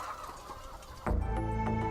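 Chickens newly released from a cage cluck in a short, close burst that starts abruptly partway through after a quieter stretch.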